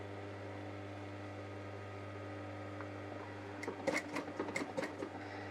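A sewing machine hums quietly for a while, then stitches a cushion cover in quick bursts of rapid needle clatter near the end.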